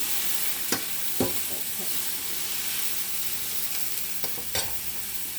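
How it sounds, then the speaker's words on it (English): Onions and meat frying in a pan for chicken and shrimp lo mein, a steady sizzle throughout with a few sharp scrapes and clinks of stirring, and one brief spoken word. "I want the onion flavor to cook in with the meat. I'm going to stir that up."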